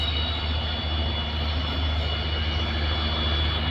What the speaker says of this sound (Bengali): ট্রেনটি ধীর গতিতে এগিয়ে যাচ্ছে